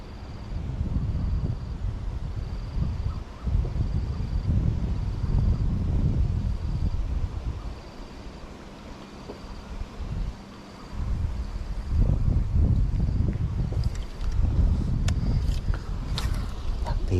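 Strong wind buffets the microphone at a lakeside snakehead fishing spot, a loud, uneven rumble that gusts continuously, dips briefly in the middle, then returns, with someone speaking now and then.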